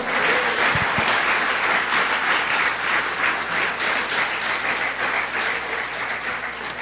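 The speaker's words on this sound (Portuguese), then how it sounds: "Uma salva de palmas ao Senhor." Dense, loud applause from a church congregation at a service, sustained and steady throughout with no talking over it.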